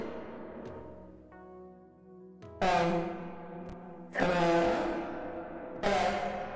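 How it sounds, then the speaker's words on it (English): A voice sings or exclaims in bursts through a software reverb effect, each note trailing into a long echoing tail, with a few sharp clicks between phrases. "So then you click reverb to add the reverb."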